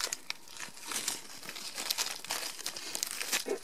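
A plastic sachet filled with red microbeads crinkles and rustles in short irregular handling bursts, close and fairly quiet, with no voice.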